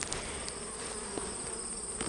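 Honey bees swarm at open hives during a honey harvest, a dense steady buzz that stays loud and close throughout, with a few brief louder passes of single bees near the ear.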